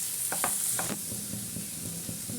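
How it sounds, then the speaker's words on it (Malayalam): Kashmiri chilli, fennel and pepper powders sautéing in a hot pan, a steady close sizzle broken by a few scraping stirs of a spoon at the start. "പൊടികളുടെ എല്ലാം പച്ചമണം മാറുന്ന വരെ വഴറ്റി കൊടുക്കാം."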